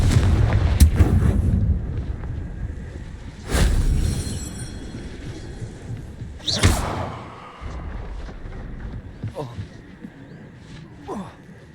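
Explosive Confringo spell blasts in the video game Hogwarts Legacy: several booming impacts with rumbling decay spaced a few seconds apart over game ambience, with a player shouting spell names.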